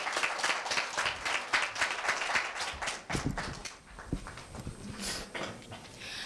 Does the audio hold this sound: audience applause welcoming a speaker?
yes